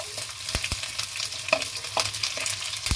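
Finely chopped garlic goes into a hot pan with oil, cumin and mustard seeds, giving a steady soft sizzle broken by a few sharp spits and crackles, close and alone without talk.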